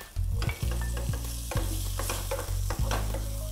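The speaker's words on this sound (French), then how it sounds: "On mélange bien le tout" Sliced leek whites and onion sizzle in a hot casserole pan while being stirred. There is a steady frying crackle, with repeated scraping strokes of the utensil against the pan, heard up close.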